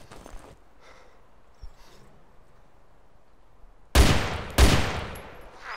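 DMR rifle in DayZ Overpoch fires two loud, sharp shots about half a second apart near the end, each with a ringing tail, after quieter ambient stretches with a few faint thumps.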